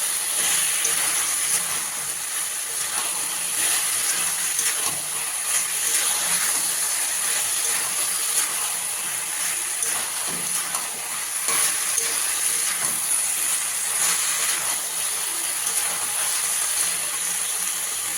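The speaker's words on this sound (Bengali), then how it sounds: "চিনিটা দিয়ে এবার ভালো করে নাড়াচাড়া করে নেব লাল শাকটা" Red amaranth greens with a little sugar stirred in a hot pan, a steady hiss and sizzle with occasional scraping strokes throughout, close and fairly loud, with no voices.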